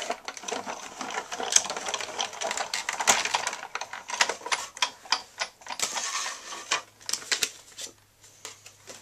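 A die-cutting machine being hand-cranked with a framelit die and top plate, giving quiet, irregular mechanical clicks and ratcheting knocks that keep going, with no speech over them.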